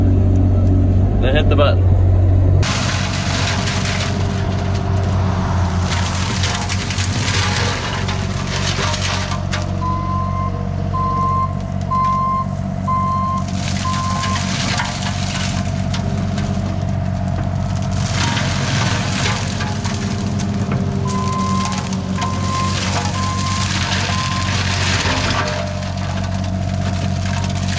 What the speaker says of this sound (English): Hold this till the mower gets up to speed.